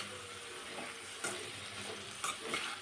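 Eggplant and green chillies being stirred in a hot pan, a steady close sizzle with two sharper scraping stirs partway through, no voices.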